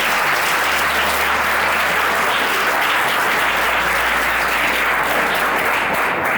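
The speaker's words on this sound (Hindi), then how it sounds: "और सर के लिए जोरदार तालियां बजाइए।" Audience at a Sita Inter College school event breaks into loud, dense applause, sustained and steady throughout without a break.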